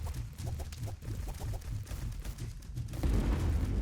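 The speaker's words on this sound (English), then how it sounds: "Oh, that's a lot of explosions." Rapid stacked explosions in the bullet-heaven video game God of Weapons: a dense, continuous rumble of overlapping booms with quick rhythmic pulses, swelling into a heavier, louder blast burst near the end, with no talking.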